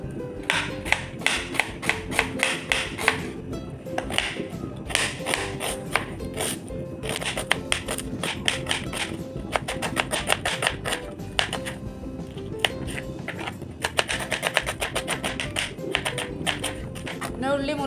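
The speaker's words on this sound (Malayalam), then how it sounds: "ഉള്ളി നീളത്തിൽ കനം കുറച്ചിട്ട് മുറിച്ചതാണ്." A knife slices an onion thinly lengthwise on a cutting board, producing quick rhythmic tapping strokes in steady runs with brief pauses, heard close up alongside a speaking voice.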